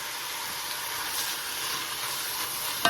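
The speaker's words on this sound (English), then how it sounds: "So now we're going to add" One onion sautés in a pan with hamburger meat for a hillbilly chili, giving a steady, even hiss throughout with no pauses or voices.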